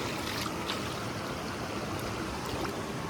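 Water being poured while mixing cooking ingredients for an outdoor chicken masala preparation, a continuous splashing, trickling rush that stays steady and fairly loud throughout.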